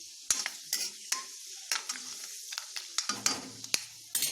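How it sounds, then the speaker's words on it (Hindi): Fenugreek seeds roast in hot oil with a bright sizzle while a utensil scrapes and clinks against the pan in quick, irregular strokes, close and alone. "अब इसमें हम मेथी दाना डाल देंगे और मेथी दाना को 1 सेकंड के लिए भून लेंगे"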